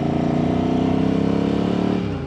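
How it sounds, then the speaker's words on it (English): A rebuilt Ducati Hypermotard motorcycle idles close by, its engine pulsing in a steady loud rhythm with the characteristic dry clutch rattle clattering over it, easing slightly at the end. "I love that, that Ducati clutch rattle."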